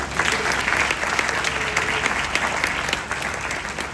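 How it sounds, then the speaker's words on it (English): Dense, steady audience applause fills a conference hall during Dr Williams' address on Africa's global repositioning, loud and sustained for the whole stretch with no talk over it. "Give yourselves a round of applause."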